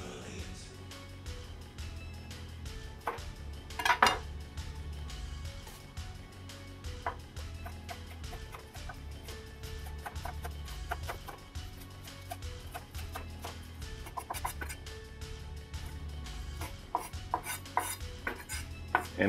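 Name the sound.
chopping scallions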